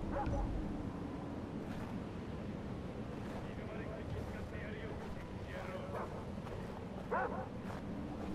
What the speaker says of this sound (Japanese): 犬が厄介だな。